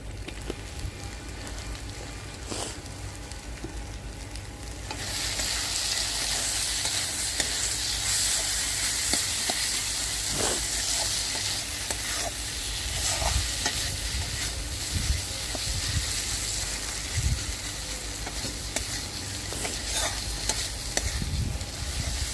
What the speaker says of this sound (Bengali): চিংড়ি মাছের মালাইকারিটা কাঠের উনুনেতেই করছি